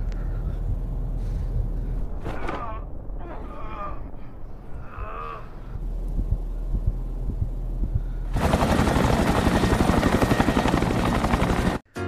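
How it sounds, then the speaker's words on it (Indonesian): A helicopter's steady rotor roar comes in loud and close after a stretch of quieter sounds with bird caws, then cuts off abruptly. "Film berakhir dengan kedatangan sebuah helikopter untuk menolong si Jessica."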